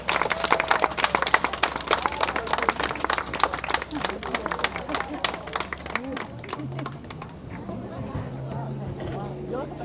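A crowd at a Leucan head-shaving fundraiser bursts into loud, dense applause that slowly thins out, then gives way to an announcer's voice speaking.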